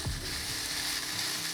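Marinated barbecue jackfruit heating in a pan, a steady, soft sizzle and hiss of frying that runs evenly and alone.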